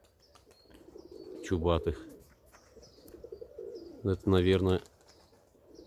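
Pigeons, including a marbled crested bird, coo outdoors in two bursts, one near the start and one louder later, with some wing flapping and someone talking quietly in between.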